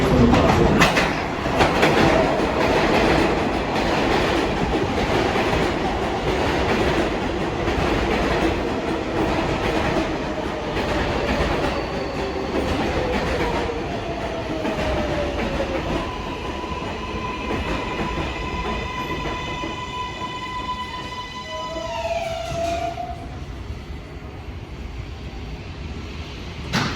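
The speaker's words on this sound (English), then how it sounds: "There is a local 7 train to Metz Willets Point. Approaching the station" An R188 7 local subway train pulls into an elevated station, a loud roar with clattering wheels and rising electric whine that descends as it slows to a stop, heard close on the platform.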